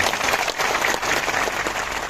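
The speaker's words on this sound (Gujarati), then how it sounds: "એવા પરેશ રાવલ સાહેબ માટે તાળીઓ પાડીએ" A crowd at a packed local political gathering breaks into steady, dense applause, many hands clapping together close by without pause.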